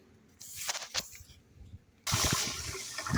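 A few faint splashes, then water suddenly gushes in a steady, loud stream into a bucket of sugar for feeding bees.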